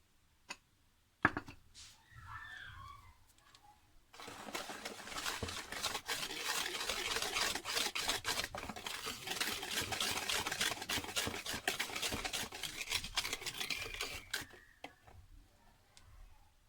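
Flour stirred little by little into carrot cake batter: a quiet, close run of rapid scraping and ticking strokes for about ten seconds, framed by near silence and a couple of isolated knocks, with no talking.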